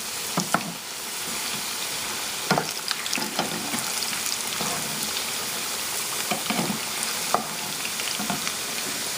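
Potatoes fry in hot oil for a Khoja biryani, giving a continuous close sizzle broken by scattered crackles and the clicks of stirring.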